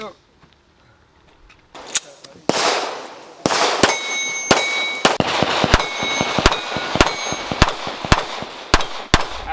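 An Arex Rex Zero 1 pistol fires a string of sharp, loud shots, spaced at first and then coming quickly and fairly regularly, each leaving a metallic ring from nearby steel targets.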